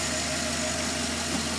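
The 5.3-liter V8 in a 2011 Chevy Silverado idles in a steady, even rumble, close and fairly loud, with a constant low hum and no other sounds.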